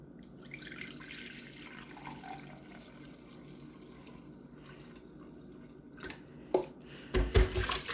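Apple cider vinegar poured from a cup into a pot while making refrigerator pickles, a faint trickling splash of liquid with a few soft clinks and knocks near the end.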